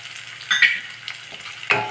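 Spices, including kasuri methi, sputter and crackle in hot oil while tempering a spinach dish, a steady sizzle with a few sharper pops close by.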